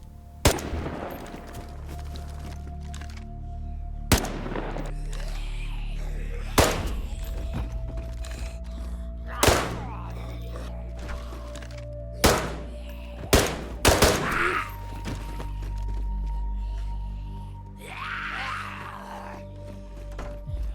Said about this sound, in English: If someone heard the shots, maybe they'd come looking.